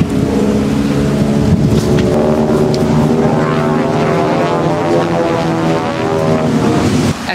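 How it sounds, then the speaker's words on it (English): A steady, loud engine drone with a low rumble holds throughout, like a propeller plane passing overhead, with no talking. "we gotta wait because we've got an airplane"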